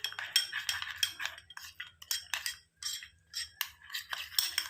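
A spoon scrapes and clinks against a bowl while mixing face pack powder, in quick irregular strokes that are close and fairly loud.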